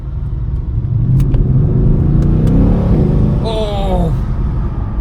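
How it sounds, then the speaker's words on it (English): A Mercedes-AMG CLS 63 four-door accelerating hard with its transmission in manual mode: a loud, steady engine roar builds and holds from inside the cabin, with quick upshift changes and a brief voice near the end. "now I've actually put it into manual mode and I just want to see how quick this transmission"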